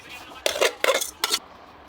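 Three quick bursts of metal cutlery clinking and scraping against a dish or pot of spicy cheese Buldak ramen, close and fairly loud, with quiet pauses between.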